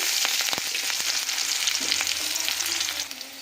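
Chopped onion sizzles loudly in hot mustard oil tempered with dried red chillies and cumin, a dense steady crackle with a few soft clinks, easing slightly at the very end.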